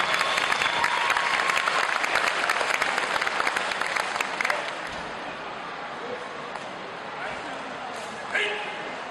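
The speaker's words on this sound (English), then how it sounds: "please give them a big round of applause to make them feel better" A crowd at a Japan Day aikido demonstration in New Zealand applauds loudly and steadily, the clapping thinning out midway into quieter scattered claps with a voice speaking over them.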